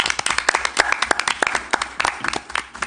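Applause from a board meeting audience, a brisk run of dense, fairly close hand claps that fills the brief moment on its own.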